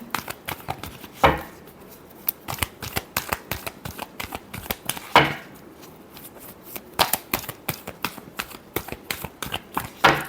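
Tarot cards being shuffled by hand, repeated crisp riffling bursts and quick slapping flicks in an irregular rhythm, close and fairly loud, with no talking.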